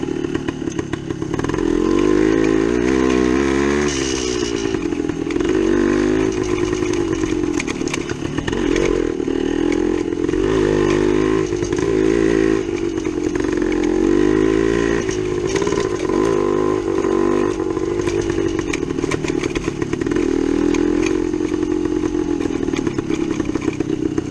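A 1972 Yamaha DT2 two-stroke motorcycle engine on a road and trail ride, revving loudly and continuously up close with rising and falling pitch as the throttle changes, with a steady buzzing drone throughout.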